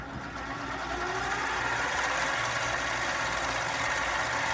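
A lathe starts up and runs at about 1,000 RPM, giving a steady, loud motor hum with a faint rising whine as it reaches speed and holds a constant drone.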